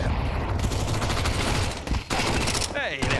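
Mac-10 submachine gun fire in a Counter-Strike match at a Major, loud rapid bursts chattering almost without a break across the clip, with commentary voices mixed underneath.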